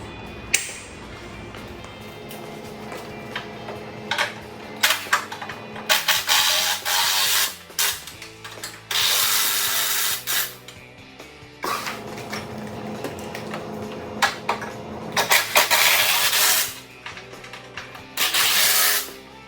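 Impact wrench driving the bolts of a winch plate on a 2021 Jeep Wrangler Unlimited Rubicon 4xe, with repeated loud, close hammering bursts of several seconds each, split by short pauses and clanks of handling.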